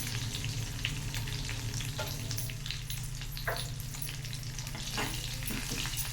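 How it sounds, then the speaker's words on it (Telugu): Cumin seeds with green and dried red chilies fry in oil in a pan, producing a continuous soft sizzle with occasional louder crackles and spits, close and unaccompanied by talk. "జీలకర్ర, ఆయిల్, పచ్చిమిర్చి, 2 ఎండుమిర్చి. ఇది కొద్దిగా ఇలా వేగాలి."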